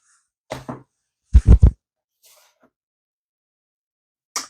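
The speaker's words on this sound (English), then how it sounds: "Sorry about that, sneezing fit." A quick run of close, abrupt sneezes in near silence, followed by a faint sniff and another short burst at the end.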